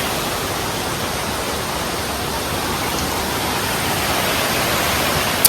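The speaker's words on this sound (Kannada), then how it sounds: "ಇದೇ ಫಾಲ್ಸ್ ಅದು." A small waterfall on the road to Baba Budangiri near Chikmagalur, India, gives a steady, dense rushing roar, close and loud, unbroken for the whole stretch with no voices.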